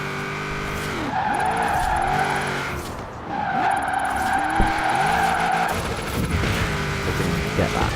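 Car drifting in the racing video game Forza Horizon 4, engine revving with sustained tyre skids and squeals through a roundabout, loud and continuous.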